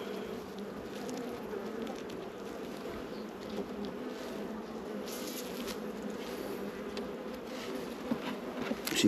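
Honey bees buzz steadily around a pulled hive frame, a dense, continuous drone close by with individual bees flying past, and no talking.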